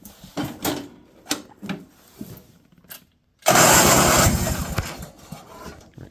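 An abandoned junkyard machine's engine is cranked with no choke and a little gas. Several short clicks and bumps come first, then after a brief silence it fires up into a loud, steady running roar nearby.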